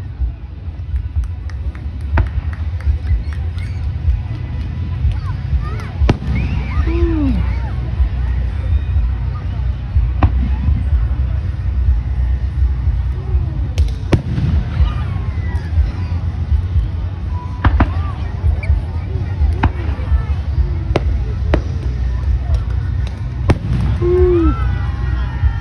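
A fireworks show on July 3, 2023 sends out sharp booms and cracks at irregular intervals, some with whistling rises, over a constant rumble of crowd noise and nearby chatter.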